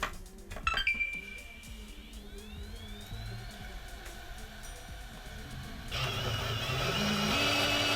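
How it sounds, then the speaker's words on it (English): Xbox One S console powering up after repair, with clicks and beeps, then a faint rising whir as the disc drive spins, and a louder hum and whoosh building near the end, quiet and close. "Power's on, drive sounds like it kicked in."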